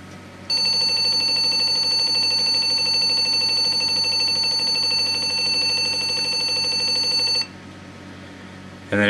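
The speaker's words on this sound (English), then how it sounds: "It makes this beeping noise." A Gigabyte GA-G41MT-S2PT motherboard at startup after new RAM was fitted gives one continuous high electronic beep that holds steady for about seven seconds and then cuts off, loud and close, with no talk over it.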